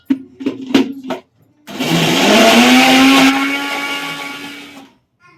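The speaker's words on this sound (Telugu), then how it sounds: "పచ్చిమిరపకాయలు చింతకాయ రెండు మిక్సీ కలుపు పడుతుంది" A mixer grinder grinding green chillies and tamarind starts up after a few short knocks and whirs loudly and steadily for several seconds before cutting off.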